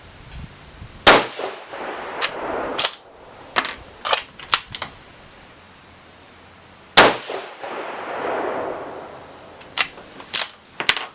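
A 6mm Creedmoor rifle firing 108-grain Berger bullets at a steel target: two sharp, loud cracks several seconds apart, each followed by a lingering rumble, with scattered clicks and metallic clinks of bolt handling between.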